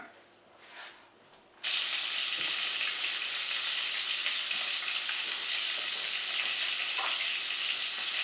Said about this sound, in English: You go ahead and saute those until they're brown